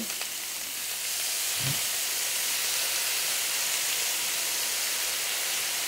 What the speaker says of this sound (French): je déglace au jus d'orange